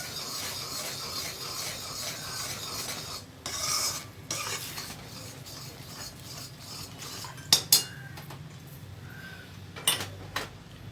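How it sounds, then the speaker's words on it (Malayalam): A spoon scrapes and stirs a thickening Mysore pak mixture of gram flour, sugar and ghee in a metal pan over high flame, with rhythmic rasping strokes and a few sharp clinks against the rim, close up and without speech. "ഇത് വറ്റുന്നത് വരെ നന്നായിട്ട് ഇളക്കുക"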